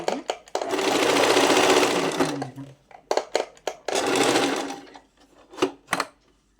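A sewing machine stitches fabric in long whirring runs broken by brief pauses and short bursts, loud and close, with no talking.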